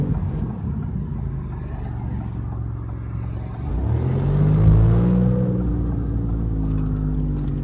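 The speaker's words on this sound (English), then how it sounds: "You just heard this MC20 from Maserati. You heard what it sounds like, whether it was sitting there revving it up" A Maserati MC20 engine idles with a low rumble, then revs up into a rising, throaty tone that holds at a higher pitch before easing slightly. It is heard close and without talk.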